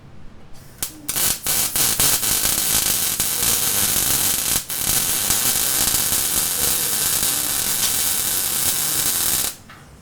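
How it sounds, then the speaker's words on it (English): Steady, harsh buzzing crackle of welding on a metal helmet, running continuously for most of the stretch with brief breaks near the start and a sudden stop just before the end. "Welding."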